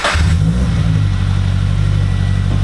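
A Subaru BRZ fitted with an Agency Power header revs loud and close, a sharp rise settling into a deep, steady rumbling drone.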